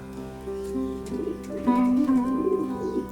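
Fantail pigeons in a cage coo up close, with soft, steady low-pitched calls that overlap and swell slightly toward the end, with no talking.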